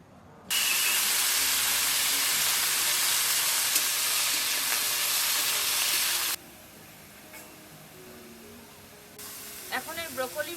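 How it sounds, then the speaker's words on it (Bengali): Broccoli dropped into hot oil already used for frying onions bursts into a loud, broad sizzle that holds steady, then drops to a softer crackle, with faint clinks near the end. "এখন এই পেঁয়াজ ভাজা তেলের মধ্যেই ব্রোকলিগুলো ভেজে নেব।"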